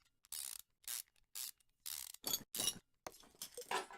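Repeated mechanical ratcheting bursts from a wrench removing the four idler roller bolts in Car Mechanic Simulator 2015, several short loud clicking runs separated by brief gaps, close and with no talking.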